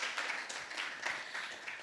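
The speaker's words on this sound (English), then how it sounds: "I would like to give a round of applause to all of them again" Faint, steady clapping from a panel discussion audience, a soft continuous patter of many hands lasting under two seconds.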